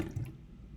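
A geode is lowered into water in a graduated cylinder: one soft, brief low plunk and splash right at the start, then a faint, quiet settling.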